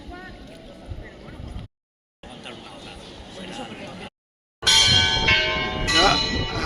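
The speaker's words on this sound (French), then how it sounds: "Là, avec les cloches." Church bells ring out loud and close in an old French town, their bright, sustained metallic tones swelling after stretches of quieter street ambience, with a couple of abrupt silent cuts.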